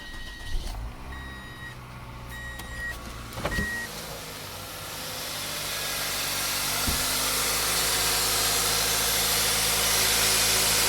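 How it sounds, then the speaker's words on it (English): A Toyota 1ZZ-FE engine starts after a few clicks and settles into a steady idle after a serpentine belt change, a close, continuous low rumble with no belt squeak and no talking. "start the car just to make sure it doesn't make any weird noises"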